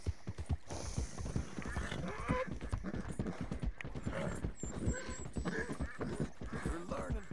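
Horse hooves in Red Dead Redemption 2 beat a fast, steady galloping clip-clop, close and distinct, with faint background sounds and no talk.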